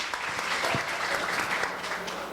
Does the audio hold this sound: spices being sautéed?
no